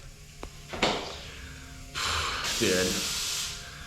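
A spray gun hisses out polyester primer onto a Nissan R32 GTR body in a short burst, then a longer steady spray follows, close up, with a brief spoken word near the start.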